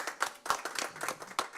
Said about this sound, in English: I think that needs some round of applause right there.